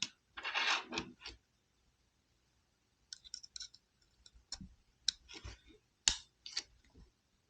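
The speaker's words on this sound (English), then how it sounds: "let's put 1 bit in the original bit holder" A small tool bit is slid and clicked into the bit holder of a Leatherman Arc multitool, giving sparse, sharp metallic clicks and brief scrapes separated by quiet pauses, heard close up.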